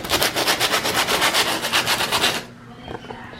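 Dry, rhythmic strokes of cheap sandpaper rubbing back and forth on wood, close and loud, a steady series of rasping passes that stops abruptly, leaving a quiet room with faint small noises.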